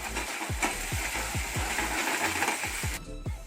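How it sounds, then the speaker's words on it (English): Masala paste frying in oil in a pan, a steady close sizzle with repeated low knocks of stirring throughout, the hiss cutting off near the end. "So while the masala is frying,"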